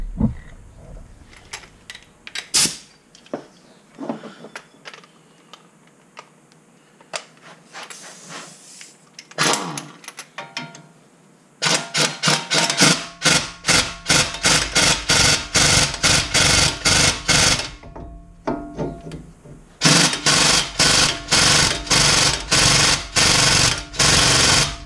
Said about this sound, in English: I bought an extra open-ended lug nut so that I could use it to pull this stuff through the hub